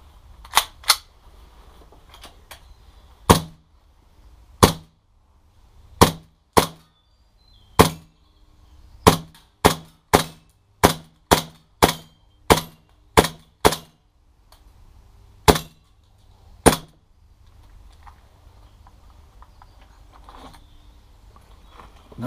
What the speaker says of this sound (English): let's do a small shooting test first.